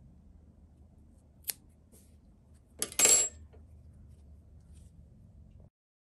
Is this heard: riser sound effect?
no